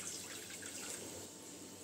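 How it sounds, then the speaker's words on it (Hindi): Water is poured into a pot of vegetable soup, a quiet, continuous splashing trickle heard close up and on its own. "ये पानी मिक्स कर लेंगे।"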